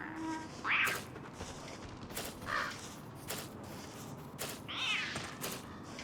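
In the video game Don't Starve, a cat meows three times, short nasal mews spaced a couple of seconds apart, over a busy game soundscape with sharp clicks.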